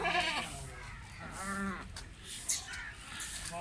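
Goats at a livestock market in Dera Ghazi Khan, Pakistan, give a couple of short, close bleats over a murmur of market background noise.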